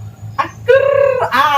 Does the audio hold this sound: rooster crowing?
yes